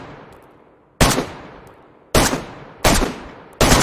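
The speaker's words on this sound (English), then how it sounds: "Now with the AK fully equipped and suppressed, it is now a lethal, accurate, silent killer" Four suppressed shots from a fully equipped AK assault rifle in DayZ, each a sharp, loud crack with a short decaying tail, spaced about a second apart over a quiet background.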